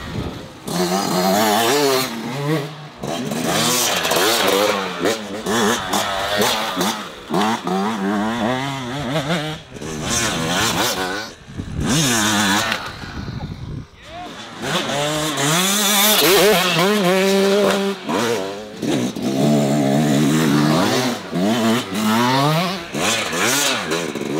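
Yamaha two-stroke off-road motorcycles, a YZ250X or YZ125X, revving hard on a trail ride, their engines buzzing loud and close with repeated throttle sweeps and short drops between passes, no talk over them.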